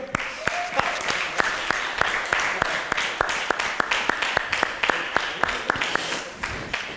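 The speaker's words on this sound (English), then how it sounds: "Clap for them." A small audience at an impromptu debate contest claps for the debaters, a steady, fairly even run of sharp hand claps that lasts about seven seconds, with faint voices underneath.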